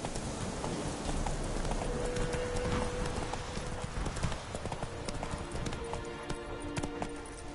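Roach, a horse in The Witcher 3, gallops in a steady rapid clip-clop of hooves, loud and close over a constant bed of outdoor game ambience.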